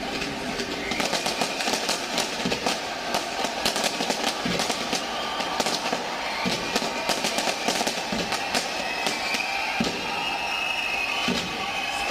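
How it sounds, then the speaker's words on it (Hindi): Many sharp bangs and crackles of New Year fireworks in New Zealand burst in quick, irregular succession over a continuous background rumble, with no voices. "आतिशबाजी आप देखिएगा।"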